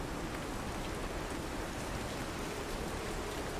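Steady rain falling outdoors, a dense, even hiss of drops that holds at constant volume throughout with no voices.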